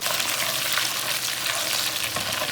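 Potatoes and capsicum fry on an emergency stove, giving a steady, close, loud sizzle with faint stirring and no voices.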